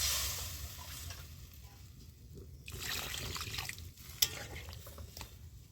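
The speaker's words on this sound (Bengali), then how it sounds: "এবার আমি পরিমাণ মতো জল দিয়ে দিচ্ছি।" Water is poured into a simmering pot of stuffed pointed gourd curry with potatoes, giving a faint sizzle and trickle with some stirring and a brief clink near the end.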